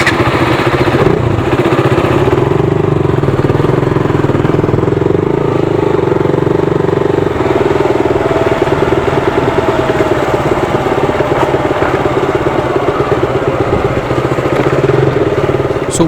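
KTM Duke 200 and RC390 motorcycles riding near the jungle at Masinagudi, a loud steady engine drone close to the microphone, continuous throughout with wind rush and no talk.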